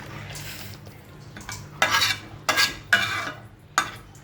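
A spoon scrapes and stirs beef and potato curry with roasted cumin powder in a pot, giving a soft sizzle under a series of about five distinct scraping strokes, close and clear, with no talking.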